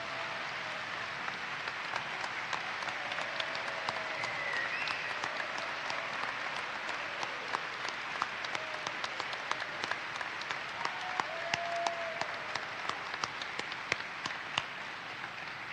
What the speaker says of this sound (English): How about a big round of applause for Tony and Lisa Vogel?